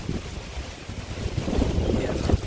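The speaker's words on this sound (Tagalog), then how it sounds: "Ayan, lakas ng hangin no." Strong wind from Hurricane Dorian in 2019 roars against the microphone near a highway. The buffeting rumble is fairly faint, with gusts building toward the end, and no one talks.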